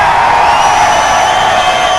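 A roaring crowd of Fresno fans cheers loudly and steadily at a 2002 King of the Mountain MMA tournament in California, a continuous wall of shouts and whoops with no break.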